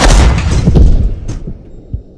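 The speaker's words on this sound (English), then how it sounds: "just keep thumping them with HE, Coney, till you run right out of HE" A tank in a video game fires high-explosive shells, a loud booming blast that rolls off and fades, followed by a quieter thud, with no talking.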